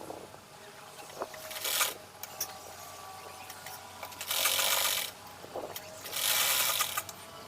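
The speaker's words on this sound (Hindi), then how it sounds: "तो देखिए यहाँ पर हमने एक सिलाई ऊपर से लगा ली है।" A sewing machine top-stitches the neckline of a lined suit in three short, fairly quiet bursts, with mechanical clicks and handling noise in between and no voices.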